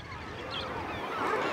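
Migratory water birds such as geese give a chorus of honking calls, distant and overlapping, over a continuous wash of background noise.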